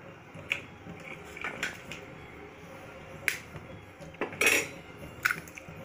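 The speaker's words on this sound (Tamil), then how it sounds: "ஸோ முட்டையை உடச்சி ஊற்றணும்" Eggs are cracked and poured into a pot for egg biryani, heard as a few sharp taps and clinks scattered over several seconds, fairly quiet with soft kitchen background and no speech.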